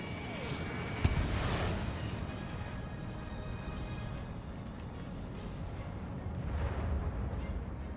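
Missile launch and explosion in the Ace Combat 7 combat flight game: a sharp boom near the first second, then a sustained roaring rumble of jet and blast noise that swells again near the end, with no talk.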